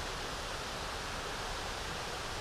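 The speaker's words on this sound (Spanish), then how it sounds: "¡Ey, otra cascada!" Waterfall beside a hiking trail in Morazán, El Salvador, giving a steady, dense roar of falling water that holds even and unbroken throughout, moderately loud with no talking.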